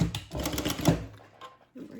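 A sewing machine stitches a handbag in a rapid burst of mechanical clatter lasting about a second, then goes quiet apart from a few faint clicks.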